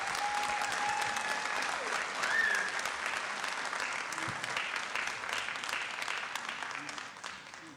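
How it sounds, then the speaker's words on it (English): Steady round of applause from the audience at a city council meeting, with many hands clapping evenly for several seconds before slowly tapering off. "Let's give Michelle a round of applause."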